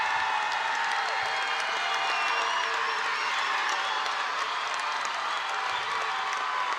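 Crowd at a Mount Notre Dame versus Mercy McAuley high school playoff volleyball match cheering steadily through game five, a dense roar of voices with whistles and shouts that stays loud and continuous throughout.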